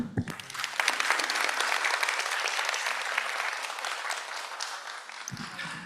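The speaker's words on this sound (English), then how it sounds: "So please give them a big applause." An audience at a Japan–Indonesia joint conference session of Vein Week 2025 breaks into applause that starts abruptly, holds as a full, dense wash of clapping for about five seconds, then cuts off, with no one speaking over it.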